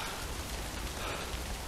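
Steady rain hisses in the video game Death Stranding, a dense, even wash of drops on surfaces with no talk over it.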